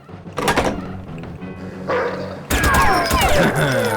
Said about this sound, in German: Aha, der Hundezwinger.